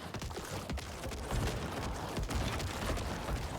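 Corpse explosion spell going off in a fantasy action RPG, a dense run of rapid crackling blasts and booming bursts that stays loud and continuous throughout, with no voices.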